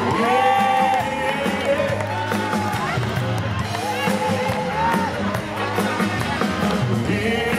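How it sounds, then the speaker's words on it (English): A concert crowd at a tribute comeback show cheers and whoops over music still playing, with a sustained roar of voices and some clapping blended into the band sound. "Give her a big round of applause."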